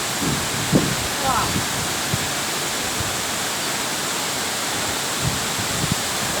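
A steady, full roar of falling water at Virgin Falls in Manyueyuan Forest Recreation Area, close and constant throughout, with people talking faintly over it.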